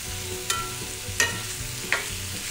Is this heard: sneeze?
no